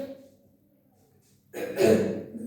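A single rough cough bursts out after a near-silent pause, close and fairly loud, with no talking.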